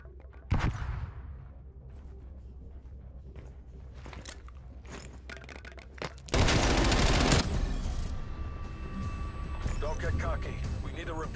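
Gunfire in the video game Call of Duty: Black Ops Cold War: an opening shot, then a loud, dense burst of rapid fire with continuing shots and battle noise, voices heard in the mix.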